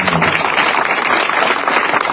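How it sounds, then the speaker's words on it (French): Loud, dense audience applause for a Miss France candidate at a conference with the contestants, a steady burst of many hands clapping close and full throughout. "on peut l'applaudir bien fort"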